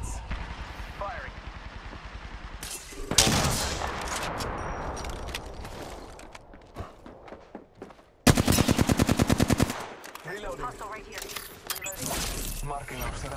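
Video game gunfire: rapid, loud bursts of shots crack out in several volleys, including a dense machine-gun-like rattle, mixed with voice callouts.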